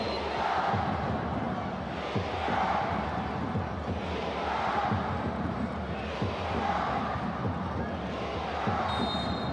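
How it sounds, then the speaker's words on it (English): A large stadium crowd at a soccer match roars in a steady, swelling wash of cheering and shouting, rising and falling slightly throughout. "the crowd rises to as loud as they've been during any course of the game so far"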